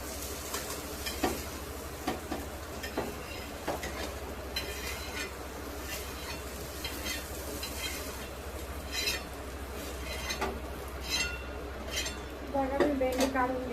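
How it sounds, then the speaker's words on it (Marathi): Fried okra with curry leaves stirred in a pan and scooped onto a plate: a continuous low sizzle with scattered spatula scrapes and clinks against the metal, while someone talks over it. "बघा भेंडी भाजली आपली, मी प्लेटमध्ये काढून घेते."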